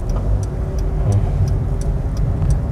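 A car accelerates on the road during a driving lesson, a loud, steady engine drone with faint rhythmic ticking above it and no talking.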